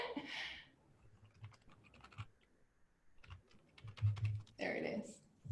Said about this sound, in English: You can't see what I'm typing.